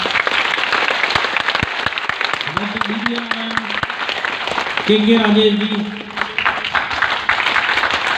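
Audience applauding a panel of scientists at a Hindi-language talk, dense steady clapping throughout with someone speaking names over it.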